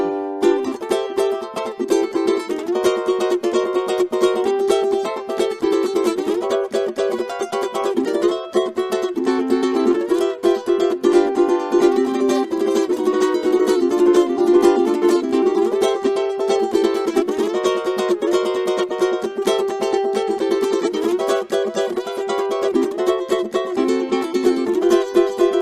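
Ukulele strumming a swing tune, voiced with jazz ninth chords in place of dominant sevenths, a steady bright chordal rhythm played alone at even loudness throughout.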